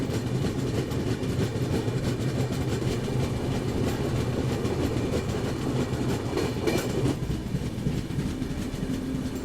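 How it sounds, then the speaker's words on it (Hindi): Vivek Express train running over Farakka Barrage at night, a steady loud rumble with rhythmic rail clatter and wheel noise throughout, continuous and close, with no voices. "एक तो ट्रेन चलने से, और साथ ही साथ जो लहरें थी ना, जो पानी की जो आवाज़ आ रही थी"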